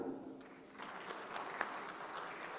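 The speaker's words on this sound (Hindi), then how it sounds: "ताली नहीं बजेगी क्या?" An audience gives faint, distant clapping that builds and holds steady for a couple of seconds at low volume.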